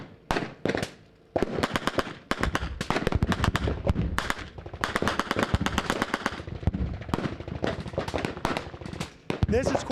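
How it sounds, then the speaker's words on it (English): Rapid bursts of machine gun fire and heavy booming cannon shots overlap densely, loud and close, at a machine gun and cannon shoot, with voices talking faintly underneath. "I'm here at the 25th annual Machine Gun and Cannon Shoot"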